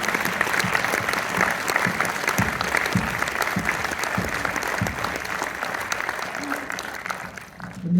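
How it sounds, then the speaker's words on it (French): Sustained audience applause at a film premiere in Orléans, a dense, steady wash of many hands clapping that carries on for about eight seconds before thinning slightly at the end, with some voices mixed into the crowd. "On l'applaudit."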